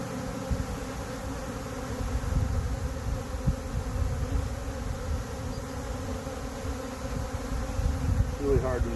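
A honey bee swarm hangs in the branches of a backyard tree, its dense, steady buzzing filling the air at close range, continuous and loud throughout.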